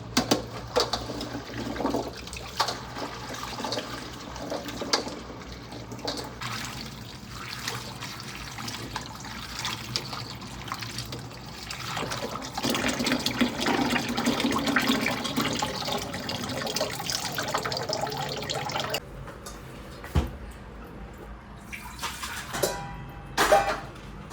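Carrots being rinsed under running water in a home kitchen, a steady broadband splash and trickle lasting most of the stretch, loud and close, with some clatter and a brief quieter pause near the end.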